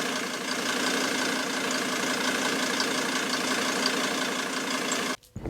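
A T1N Mercedes Sprinter van engine idles with a constant low rumble and hiss, running smoothly and evenly before cutting off abruptly near the end.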